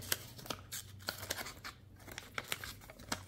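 Leatherman Wave Plus multitool scissors snipping in a quick series of crisp, close clicks and cuts over a faint background hum, with no talking.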